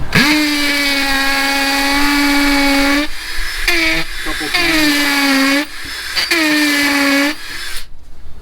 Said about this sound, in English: then we hammer drill into the concrete